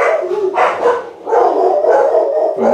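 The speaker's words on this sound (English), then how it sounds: "Sorry, there's my dogs." Several dogs bark and howl close by in loud, overlapping bursts, with some drawn-out yowling between the sharper barks.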